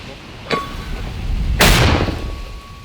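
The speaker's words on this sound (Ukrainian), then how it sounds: "Постріл." A sharp territorial defense mortar shot booms close by, followed a second later by a louder, broader blast that rumbles and fades, with no talk.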